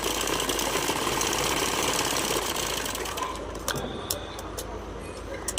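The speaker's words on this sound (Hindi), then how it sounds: "इस तरीके से हमें पूरे गले पे सिलाई कर लेनी है।" A sewing machine stitches the neckline of a blouse with a continuous rapid whirring hum up close, then slows and stops, leaving a few faint clicks and taps at the end.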